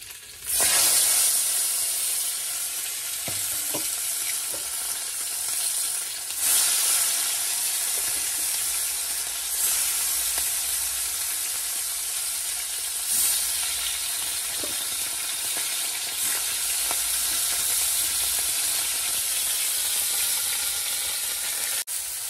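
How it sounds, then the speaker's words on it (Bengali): Koi fish frying in hot oil in a pan: a loud, continuous sizzle and hiss with occasional sharper crackling bursts, heard alone without talk. "আর এদিকে তো তেল দিয়ে দিয়েছি, চলো মাছগুলো দিয়ে দিই।"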